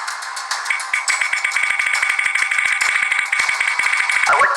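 A game show prize wheel spinning as a sound effect, a dense bright clatter of rapid ticks over a ringing chime-like tone, loud and continuous for several seconds before a final flourish.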